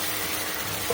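Spice paste with ground coriander and salt fries in a pan, giving a steady, close, dense sizzle across a brief moment with a small bump at the very end.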